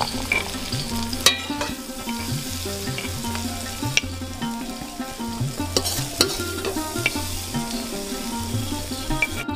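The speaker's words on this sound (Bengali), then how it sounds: "সবজিগুলো আমি কত সুন্দর করে ভেজে নিয়েছি" Vegetables for navratan pulao frying in a pan and being stirred, a steady sizzle with repeated spoon scrapes and clinks throughout, close and fairly loud, no talking.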